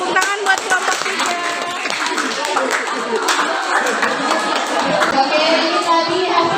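A room full of people claps in sustained, dense applause for a presentation group, holding steady throughout.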